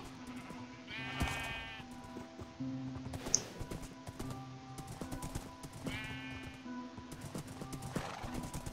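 Minecraft horse sounds: two whinnying neighs a few seconds apart over repeated hoof clip-clops and soft tapping, with a quiet steady background tone.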